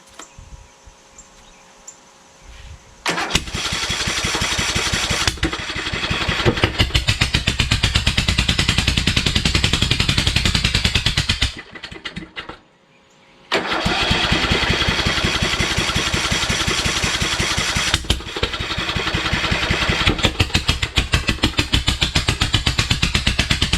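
A Kohler Courage 20 engine on a Craftsman YS4500 lawn tractor, muffler disconnected, roars loudly and raggedly, cutting out briefly midway before firing back up and running rough again.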